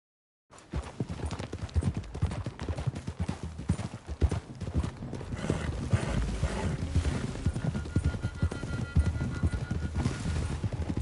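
Horses' hooves clip-clop steadily through a forest clearing, a busy overlapping patter of hoofbeats from several animals, close and continuous, with rustling movement building underneath.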